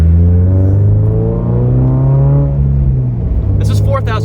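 A car engine revs steadily up to about 4,000 RPM, a close, loud, continuous drone whose pitch climbs, holds, then eases back, heard alone without talking.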